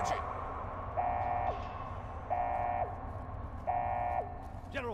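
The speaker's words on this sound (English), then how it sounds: "This better not be another false alarm." Repeating alarm in Fallout New Vegas: four evenly spaced buzzing beeps, each about half a second long, sounding over a low background rumble.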